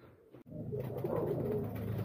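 Pigeons coo steadily at close range as they are fed in their loft, a low continuous bubbling murmur of several birds that swells after a brief opening moment.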